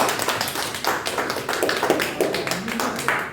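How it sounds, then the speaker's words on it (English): An audience clapping on request in a training session on root cause analysis, a quick run of close, sharp claps lasting a few seconds, with no talk. "Give me a clap."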